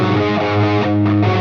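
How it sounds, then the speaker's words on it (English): Electric guitar driven through a mid-focused overdrive pedal placed after the amp preamp, a loud, honky, narrow-sounding chord strummed and sustained with no talk. "if we add overdrive, which is focused on mids, so it basically cuts everything from the preamp, and it sounds like this"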